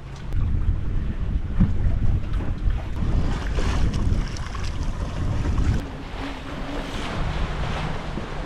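Sailboat running through short, square waves on the starboard quarter in gusty, shifting wind off the Pacific coast of Mexico, with steady broadband wash of water and wind buffeting the microphone throughout, slightly easing in the second half.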